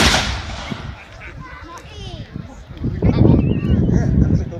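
A US Civil War 12-pound Napoleon cannon fires at an outdoor artillery display: a loud broadband blast opens and rumbles away, followed by people talking nearby and crowd noise.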